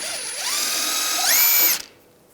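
A short whirring power-tool spin while taking off the steering rack nut with a 24mm socket on a 2013-2016 Dodge Dart, rising in pitch, holding steady, then cutting off abruptly into quiet.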